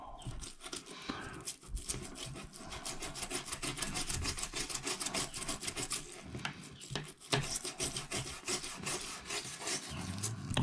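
Continuous rhythmic rubbing and rasping as a silicone iPhone cover is scrubbed with alkaline electrolyzed water, close up and steady.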